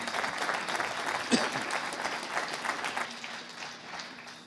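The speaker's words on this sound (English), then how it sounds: "Maybe we get a round of applause." Audience applause rings out for a discussion panel at a housing economics session, a steady round of clapping of moderate loudness that gradually tapers off toward the end.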